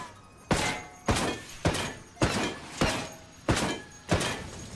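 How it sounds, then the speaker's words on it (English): SR25 rifle rounds strike a truck in Ghost Recon Wildlands, seven loud, evenly spaced shot impacts about every 0.6 seconds, each a sharp crack with a short metallic decay. "let's just see how many shots it takes to kill it with an SR25"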